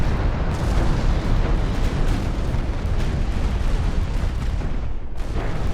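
Heavy 12-inch naval guns in a warship battle from the video game Ultimate Admiral Dreadnoughts roar as a continuous loud, dense rumble of overlapping booms with no clear gaps.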